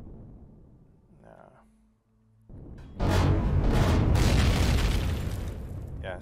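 A large explosion in the space survival game Empyrion Galactic Survival roars up suddenly after a short pause, a loud sustained rumbling blast that slowly tails off, with brief talk before it.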